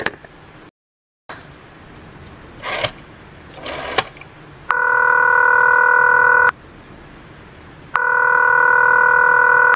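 A telephone handset clicks and is dialed, followed by a loud, steady on-off busy tone in two long bursts.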